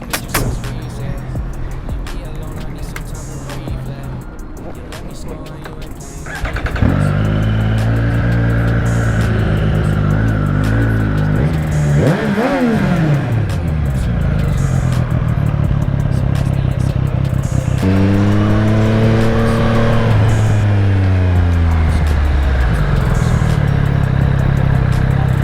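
Motorcycles at a large nighttime meetup of superbikes, naked bikes and custom bikes, with several engines idling and revving in rising and falling sweeps close by, loud and continuous with a steady crowd rumble.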